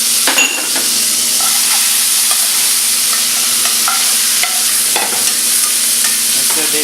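Tomatoes fry in a hot pan for dal tadka, giving off a steady close sizzle while a utensil stirs and scrapes through them with scattered clicks and taps against the pan.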